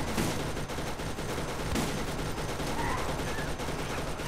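An enemy Bruiser in Borderlands opens fire, rapid gunshots rattling in dense, steady bursts that fill the whole stretch, loud and close, with no talking over them.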